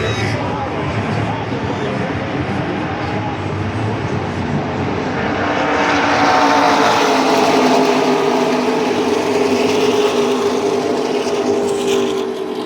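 Stock race cars at Daytona in the Dente 200 build from a distant rumble to a loud, roaring pack sweeping past the stands. A commentator talks over the engine noise throughout.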